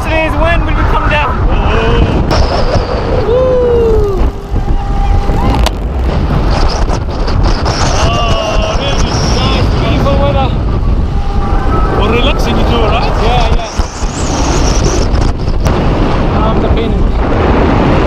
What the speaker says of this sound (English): It's windy out there